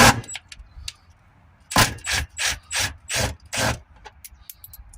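A ratchet wrench loosening 10mm bolts from a plastic cover on a Peugeot Partner van, giving a run of five or six rapid, loud close-up clicking bursts after a few faint taps, with no talking.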